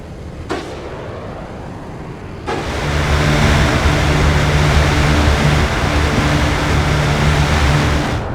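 A close air support plane's gun firing in Broken Arrow, a sharp crack followed by a loud, sustained roaring burst with a low droning hum that keeps going to the end.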